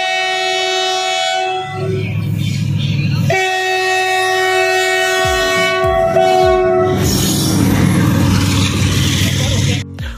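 A train rolls past in Meerut cantonment, its loud horn sounding in long sustained blasts as the wagons rumble and clatter close by, with a brief voice underneath.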